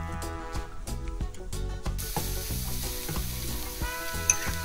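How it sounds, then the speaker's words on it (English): Celery joins onions and bell peppers sautéing in a pan, giving a steady close sizzle with stirring over background music throughout. "add celery and allow it to saute for about 2 minutes"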